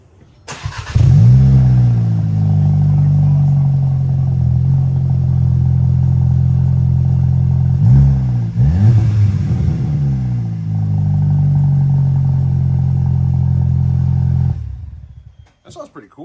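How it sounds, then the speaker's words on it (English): Loud, close revving of a VW MK7 GTI engine running with catalytic converters but no exhaust system fitted, holding a steady raspy drone with a brief dip and a second rev burst mid-way before cutting off. "in case anybody's curious on what it sounds like with just cats in"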